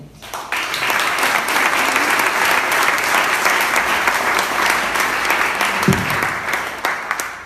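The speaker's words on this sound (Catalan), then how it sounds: "Un aplaudiment." Sustained applause from a sizable audience at a vermouth awards ceremony, steady dense clapping that holds for several seconds before thinning slightly at the end.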